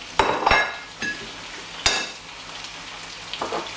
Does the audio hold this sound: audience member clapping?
no